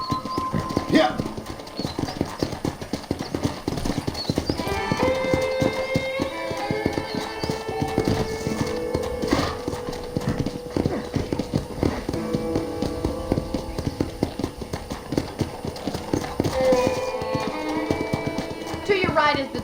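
Horse hooves clip-clopping in the Red Dead Redemption video game, a steady galloping rhythm that runs throughout under game music and ambience, with occasional speech over it.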